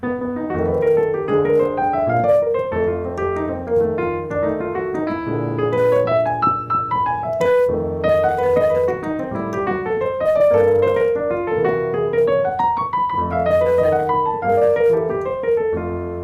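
A piano plays a blues chord progression with a walking bass and right-hand chords and runs, full and steady at moderate loudness throughout.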